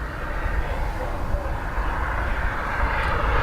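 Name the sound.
British Airways A321neo airliner at Dublin Airport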